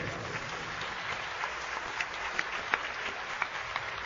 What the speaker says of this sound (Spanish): Yo creo que se merece un aplauso más fuerte.